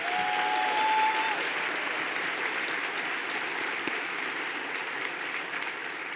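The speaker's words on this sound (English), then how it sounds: "Let's give them a round of applause." Sustained applause from a large audience at a city's State of the City address fills the room, dense and even, fading only slightly across several seconds.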